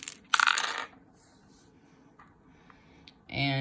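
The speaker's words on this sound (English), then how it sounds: "there's a little ball in there that when you roll it, it comes up with a number on top" Small round die with a loose ball inside rolled across a hard surface: a burst of clattering rattle, a quiet pause with faint ticks, then a second short rattle at the end.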